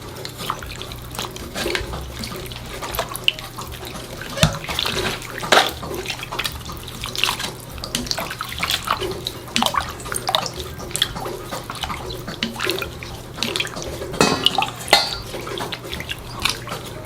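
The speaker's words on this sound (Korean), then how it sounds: "건져서 찬물에 뜨거운 열기를 빼줄게요." Tap water runs over blanched bangpung greens in cold water, a steady splashing stream with irregular drips and sloshes as the greens are handled, close and fairly loud.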